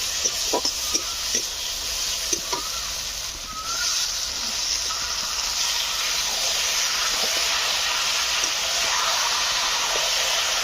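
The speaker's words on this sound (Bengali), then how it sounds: "ধুয়ে রাখা মাংসগুলো দিয়ে দেবো" Washed chicken pieces dropped into a hot pan of oil for a Bengali chicken and potato curry: a loud, steady hiss of frying swells after a few light clatters, close and continuous with no talk.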